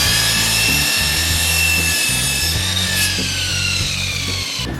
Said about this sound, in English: I'm just going to cut with the miter saw the square around that shape